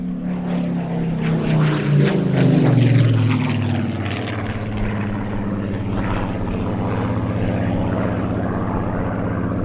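A propeller aircraft at an airshow, once flown with the Battle of Britain Memorial Flight and later owned by Rolls-Royce, drones steadily overhead, its engine tone swelling and falling in pitch as it passes, loud and continuous throughout.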